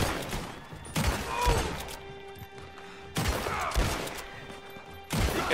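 Gunshots in Red Dead Online, three sharp loud reports spaced a couple of seconds apart, each with a short echoing tail over low background game noise.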